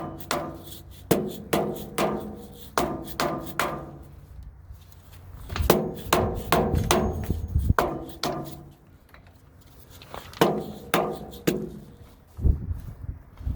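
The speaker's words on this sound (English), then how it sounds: "let's see if we can free this up now with a dead blow. Just give her a couple tappies around and see what happens." A dead blow hammer taps again and again on the PTO housing of a Case 311B tractor, landing close, dull, thudding blows in quick bursts of several strikes with short pauses between them.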